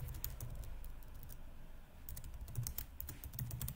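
Fingers typing a line of Python code on a computer keyboard, a steady run of close, crisp key clicks with a brief lull midway before the tapping picks up again, no voices.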